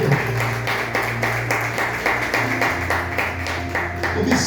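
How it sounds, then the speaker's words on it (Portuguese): A church congregation claps loudly in a steady rhythmic beat, sustained close applause over a low sustained musical tone, with no talk on top. "Vamos aplaudir bem forte o nome do Senhor."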